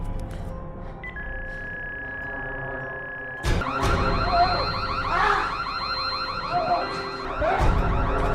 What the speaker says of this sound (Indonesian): Rocky melihat remote alarm milik Alex dan langsung menyalakan alarm tersebut